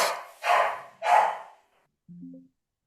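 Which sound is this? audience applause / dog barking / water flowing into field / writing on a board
dog barking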